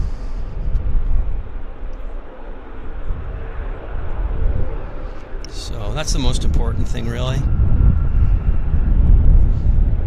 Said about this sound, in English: Get this beautiful jet taxiing in.